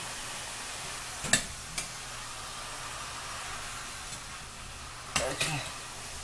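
Ground meat for sloppy joes browning in a pan, a soft steady sizzle beneath a spatula scraping and stirring, with a few sharp knocks against the pan.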